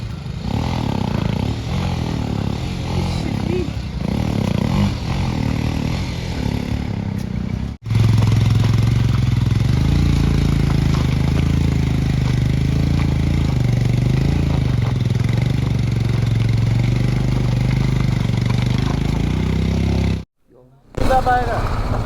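A motorcycle engine drones and strains as the bike jolts over a rough off-road mountain road from Mangan to Lachung in North Sikkim, with rattling and clatter; speech is heard over the first part.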